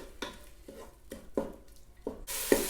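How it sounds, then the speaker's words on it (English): Chopped onions with minced garlic cook in a Ninja Foodi, a soft sizzle broken by repeated scraping stirs of a utensil against the pot, close and rhythmic, ending in a louder hiss. "Now we're going to cook this until the onions are translucent."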